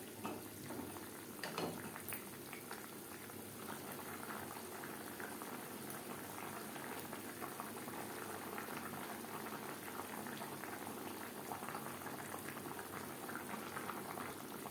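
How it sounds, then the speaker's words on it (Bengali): Fish curry simmering in its gravy, a faint continuous bubbling and gentle popping that holds steady throughout without any talking. "গ্রেভির সাথে মাছ আরও 3-4 মিনিট রান্না করব।"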